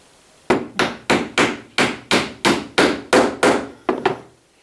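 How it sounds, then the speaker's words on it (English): A hammer knocks a plug into a 20mm hole in ten sharp, evenly spaced blows, loud and close, each ringing briefly before the next strike, with a final pair of quicker taps. "And what I can do is knock that in."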